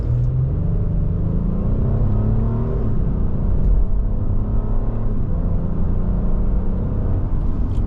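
A 2026 Honda Passport RTL pulls away from a stop, its engine note rising steadily as it accelerates, with a continuous low rumble and whir from inside the cabin and no talking.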